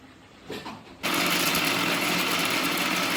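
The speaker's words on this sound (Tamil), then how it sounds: "இதை நல்ல ஃபைன் பேஸ்ட்டாக அரைச்சிக்கலாம்" After a brief quiet start, a mixer grinder kicks in and whirs loudly and continuously, grinding spices into a fine paste for mutton curry, a dense, steady grinding hum.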